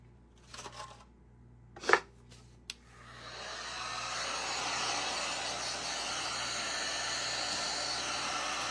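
A hair dryer blows on a thrifted-frame craft piece, switching on after a few scattered handling clicks and then roaring steadily and close for several seconds, with no talking.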